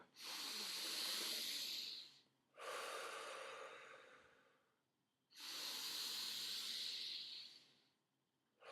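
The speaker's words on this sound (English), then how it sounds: "I'm going to take 3 deep, proper breaths" Three deep breaths during a breathing exercise, each a long, close, airy inhale-exhale with brief pauses between, breathy and hissing with no talking.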